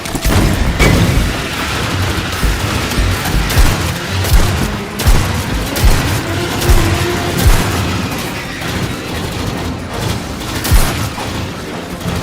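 A grenade bursts amid a firefight in the video game Aliens Fireteam Elite, with loud, dense gunfire and repeated deep booms rolling continuously through the battle.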